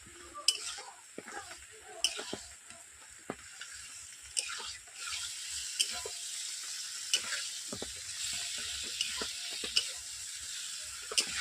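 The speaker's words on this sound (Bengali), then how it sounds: "এইভাবে আমি চিকেনগুলোকে দশ মিনিট কষে নেব" Chicken pieces sautéing in spiced oil with potatoes for a Bengali home-style chicken curry: a steady, soft sizzle runs throughout, broken by scattered clicks and scrapes of a spatula stirring the pan.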